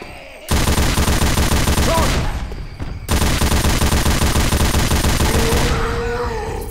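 A giant mounted machine gun firing in the zombie shooter Left 4 Dead 2, loud rapid continuous bursts with a short pause before firing resumes, grunts from the game faintly mixed in.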